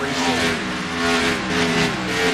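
Stock car racing at Bristol Motor Speedway: a dense, continuous roar of several race car engines with droning harmonic tones and faint tire squeal, loud and steady without a break.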